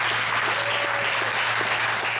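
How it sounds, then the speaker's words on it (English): Audience at a music school prize-distribution event gives a warm round of applause as an artist is welcomed to the stage, with a thick, continuous roar of many hands clapping, steady and close. "with a warm round of applause"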